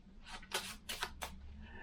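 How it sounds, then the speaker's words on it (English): Packets of playing cards being shuffled by hand, several short riffling bursts in quick succession, close and soft with no talking. "could you shuffle each packet?"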